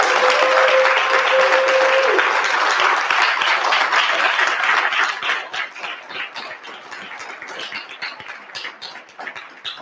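An audience applauds Dr. Claud Anderson at a unity talk, with loud, dense clapping at the start that gradually thins into scattered claps and fades toward the end.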